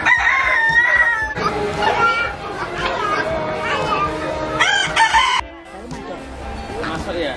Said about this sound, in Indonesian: Ayam mutiara.